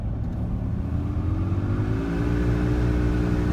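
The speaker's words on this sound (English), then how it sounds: "First, the AC, kind of funny. When you raise it up, it sounds like you have a swamp cooler." Air conditioning blower motor in a 2017 Chevrolet Corvette Z06 with the Z07 package, heard inside the cabin as a loud, steady whooshing hum. Partway through, a whine climbs in pitch as the fan spins up, with no talking.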